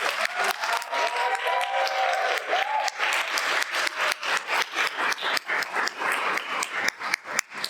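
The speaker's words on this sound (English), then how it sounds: "another round of applause is for them to come up here" An audience applauds students brought up to the stage at an Asian Girls Ignite event, steady dense clapping filling the hall, with louder individual claps standing out near the end.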